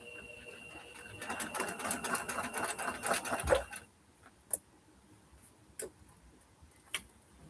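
Home sewing machine stitching quilt seams, a steady rapid mechanical chatter for a few seconds that stops abruptly, followed by a few isolated sharp clicks in a quiet room.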